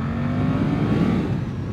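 A Suzuki GSX-8S motorcycle in riding mode A, in second gear, roars at full throttle as a sustained, loud engine drone recorded close by, holding its pitch with a slight rise, no talking.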